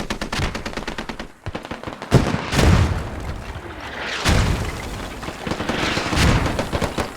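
Heavy gunfire and mortar blasts fill a competitive video game match, with rapid machine-gun rattles running throughout and loud booming impacts around two, four and six seconds, all close and dense.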